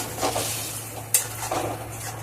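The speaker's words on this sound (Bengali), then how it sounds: "এই সব এখন মশলাটা কষাবো।" A spice mix with Kashmiri chili powder stirred and fried in a pan, giving a low sizzle broken by a few scraping strokes and one sharp metallic clink of utensil on pan, close by, with no voices.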